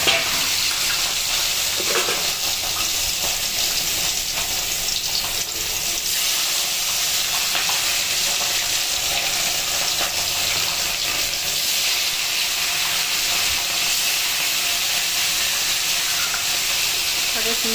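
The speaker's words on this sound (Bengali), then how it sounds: "এখন আমি দেখুন আমার তেলটা গরম হয়ে গেছে, এখন আমি মাছ দিয়ে দেবো।" Rohu fish fries in hot oil with a loud, continuous hiss and crackle that stays steady throughout, close to the microphone.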